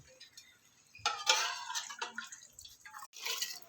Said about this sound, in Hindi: देखें, जो पानी बकाया हमारा था हमने डाल दिया है